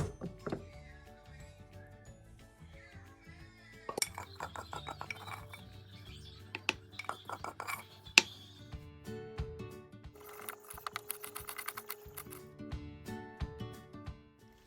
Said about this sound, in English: That's why I'm using a mortar.